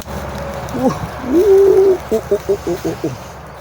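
A forest bird gives a drawn-out cooing call followed by a quick series of five or six short, evenly spaced coos, fairly close and clear over quiet background noise.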